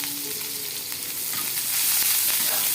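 Mustard seeds and curry leaves fry in hot oil with a loud, close, continuous hiss and crackle that swells louder toward the end, with no talking.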